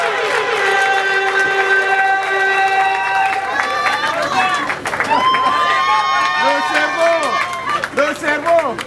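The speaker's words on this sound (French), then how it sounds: "Je veux qu'on applaudisse pour lui." A crowd at a political opening rally in Angondjé cheers and claps, loud and lively, with shouts and voices rising over the noise and melodic tones ringing through the mix.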